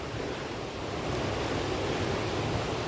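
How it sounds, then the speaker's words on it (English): A waterfall beside a narrow path in Clydach, Wales, gives a steady, even rush of falling water, moderately loud and unbroken, with no voices. "Continuing along this narrow little path alongside the waterfall."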